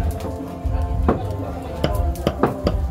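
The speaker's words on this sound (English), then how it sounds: "how to chop the meat." A butcher chops meat with a blade, giving several dull, thudding cuts in an uneven rhythm, close by and loud, with some murmuring voices in the background.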